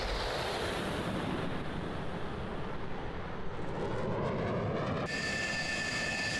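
F-16 Viper jet in a video game taking off, a steady loud roar of engine noise filling the whole clip, with a higher whine and tonal lines rising near the end as it accelerates.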